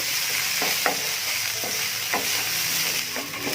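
Tomato masala sautés in a pan with a steady sizzle, broken by a few scraping stirs of a spoon, close up and with no talking.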